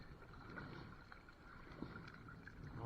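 A kayak being paddled on a reservoir in wind, with a steady low rush of wind noise and faint soft water strokes, quiet and continuous throughout.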